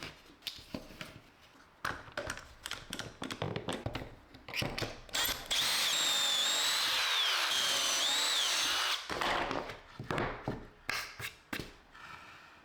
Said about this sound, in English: Now I'm going to attach it to the legs using glue, clamps, and pocket hole screws.